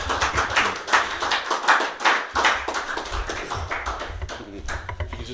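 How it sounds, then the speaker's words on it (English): An audience at a spoken testimony event claps for a guest in a loose, uneven round of nearby hand claps lasting several seconds, steady and moderately loud with no talk over it. "can we give Carmen a round of applause?"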